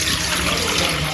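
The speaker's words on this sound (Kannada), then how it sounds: "ಇಡ್ಲಿ ಪಾತ್ರೆಯಲ್ಲಿ ಸ್ವಲ್ಪ ನೀರು ಹಾಕ್ಕೊಬೇಕು" Water runs steadily into an idli steamer vessel in a short, continuous splashing pour, close and moderately loud, with no speech.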